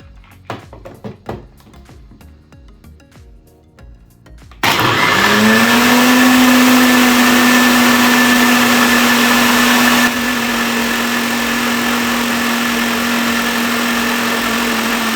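A Balzano Nutri 1200 W blender starts up after a few clicks and taps, then a loud steady motor whirr grinds carrots, ginger and ice cream close by.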